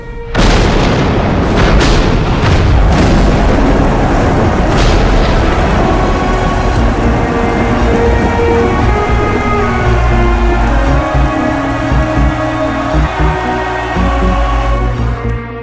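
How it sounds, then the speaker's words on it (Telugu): Loud booming thunder cracks and rolls, then a long deep rumble lingers, heavy and close, with a sustained tonal drone underneath. "థండర్."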